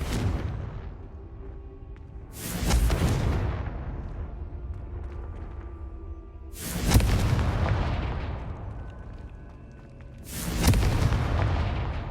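Confringo spell explosions in Hogwarts Legacy: three loud booming blasts spaced a few seconds apart, each with a long rumbling decay over a low ambient drone.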